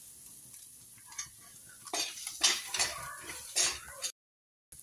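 Spices such as turmeric and coriander powder being stirred into a frying pan for matar bharta, with a few scraping, clinking stirs and a light sizzle at close range, ending abruptly in silence.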